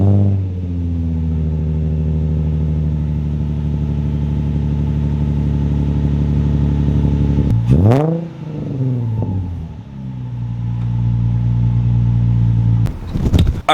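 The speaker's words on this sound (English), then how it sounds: "we gotta start it up, make sure that everything's good" Nissan 350Z with an ISR Y-pipe exhaust runs at a steady, loud idle, then cuts out briefly and restarts with a quick rising blip that settles back to a deep idle, with another short stumble near the end.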